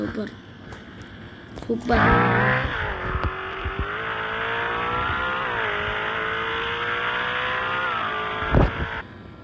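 A car in a video game racing at high speed, its engine whining steadily with gear-like pitch shifts, loud and close, while a person talks over it at the start and end.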